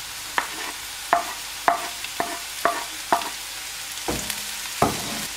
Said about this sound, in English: For spinach also, just saute for 1 minute and it will be done.